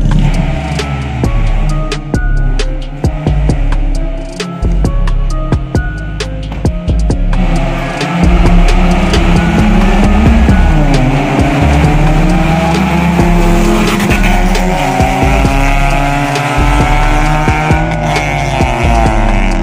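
Car engine revving hard with gear changes, the pitch climbing and dropping in a loud continuous drone that fills the whole stretch with no voices.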